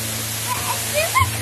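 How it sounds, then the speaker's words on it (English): Continuous rushing water from a garden waterfall, a steady broadband roar close by, with faint voices and small tonal sounds over it. "You want me to make a video of the waterfall?"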